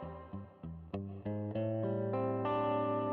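A guitar played through an amp with a clean rock-blues tone, notes and chords picked one after another and building into sustained ringing chords, close and fairly loud with no talking.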